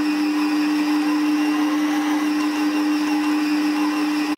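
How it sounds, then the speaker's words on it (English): A stand mixer kneads focaccia dough at high speed, giving a loud, steady motor whine with a constant hum that runs unbroken and alone until it cuts off abruptly at the end. "you then want to speed up the mixer"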